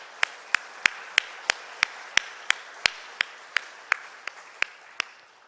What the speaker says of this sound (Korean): 다시 한번 격려의 박수 주십시오.